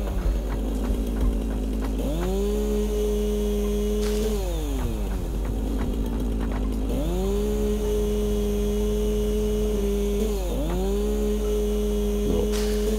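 A chainsaw in the video game Satisfactory cuts through wood, its engine rising to a steady held whine in repeated bursts, each cut ending with a falling pitch sweep, loud and close against a constant low hum.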